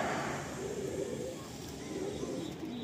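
Pigeons in a loft cooing softly and continuously, low murmuring calls layered over steady background noise, with no clear talk.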